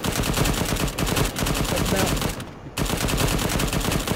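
Dense automatic gunfire in a military shooter video game: rapid, loud bursts of rifle and machine-gun fire rattle almost nonstop, with one brief pause before the firing resumes.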